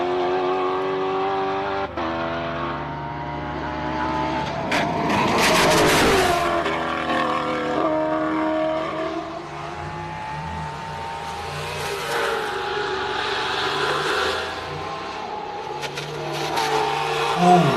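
A race car powering up a hillclimb course in the King of the Hill shootouts, engine roaring loud and sustained with rising revs and gear changes, a brief burst of noise mid-run, no talking.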